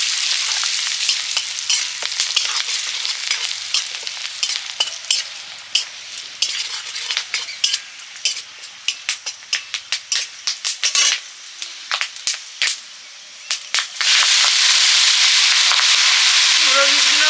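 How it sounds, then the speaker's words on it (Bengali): Pumpkin seeds with garlic and turmeric fry in a pan up close, popping and crackling in sharp irregular bursts over a loud sizzle that swells into a strong, steady hiss near the end. "কুমড়ো বীজগুলো ভাজা শুরু হতেই ফটফট করছে"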